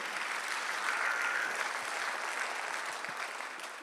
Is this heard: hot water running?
no